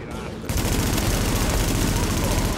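Dense bursts of gunfire from a firefight in the third-person shooter The Division, loud and continuous with rapid overlapping shots under a steady rumble after a brief quieter start.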